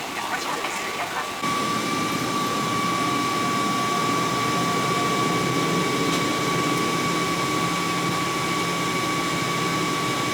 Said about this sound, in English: So now we're taxiing to runway 25 left, and we are clear for takeoff.